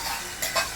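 Brief soft sizzle of frying with a couple of scraping stirs in a pan, close by, as taro leaves are stir-fried in a chilli tempering.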